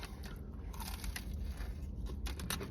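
Crisp, crackly crunching from biting into crunchy fried McDonald's chicken wings, close and steady with no talking.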